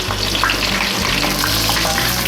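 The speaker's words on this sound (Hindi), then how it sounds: "देखिए कितने अच्छे कबाब मेरे फ्राई हो गए हैं" Peshawari chapli kababs fry loudly in a pan over low heat, a close, continuous sizzling hiss with bubbling crackles and oil spits and no voices.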